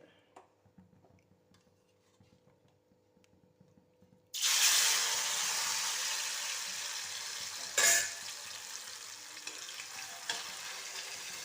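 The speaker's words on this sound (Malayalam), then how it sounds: "ഇനി ഇത്രയും കൂടെ ഇതുപോലെ വറുത്തെടുക്കാൻ പോവുകയാണ്" Jackfruit chips dropped into hot oil, which bursts into a loud, steady sizzle and keeps frying vigorously, with one brief louder surge of crackling partway through after a quieter stretch of faint kitchen sounds.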